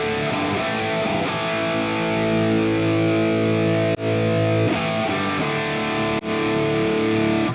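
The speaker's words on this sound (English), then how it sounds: "you can change the overdrive to a distortion if you want." Electric guitar played through distortion on a Sonicake Matribox II Pro multi-effects unit, thick saturated sustained chords ringing loudly with two brief cut-offs between strums, no talking.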